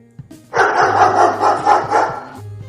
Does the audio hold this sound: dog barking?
yes